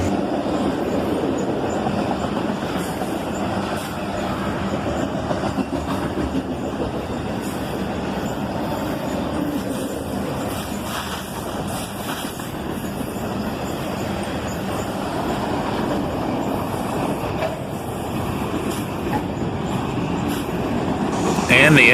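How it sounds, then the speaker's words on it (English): A long CSX autorack freight train rolls past steadily at night, wheels rumbling and clacking on the rails with occasional squeals, a constant close roar throughout. "These daily autorack trains are a common sight."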